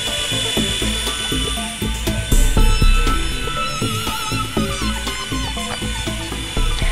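An Air Hogs Jackal RC micro helicopter flies nearby, its small rotors giving a steady, busy whine and buzz with shifting pitch and a brief louder surge, heard alone without talk.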